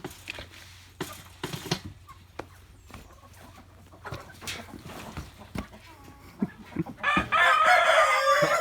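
Chickens cluck in short, scattered calls close by, with a louder burst of squawking and flapping toward the end.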